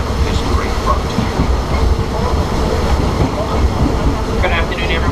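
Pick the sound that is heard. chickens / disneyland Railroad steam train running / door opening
disneyland Railroad steam train running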